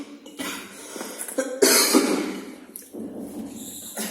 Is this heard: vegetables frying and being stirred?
no